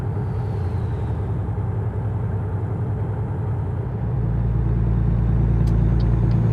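A truck engine in American Truck Simulator drones steadily at first, then its rumble thickens and grows louder as it accelerates under load.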